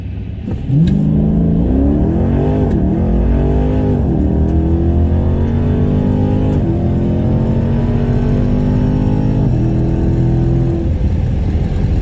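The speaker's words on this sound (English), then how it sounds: "Semifinals, racing this quick. This Camaro is really quick." A Camaro drag car launches hard at a street car drag racing event, its engine climbing loud and steady through rising revs with several brief dips as it shifts over roughly eleven seconds.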